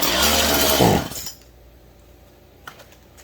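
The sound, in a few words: Stihl MS171 chainsaw engine sputtering after carb swap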